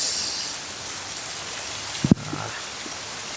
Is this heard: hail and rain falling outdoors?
yes